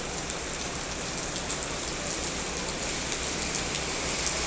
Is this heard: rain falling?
yes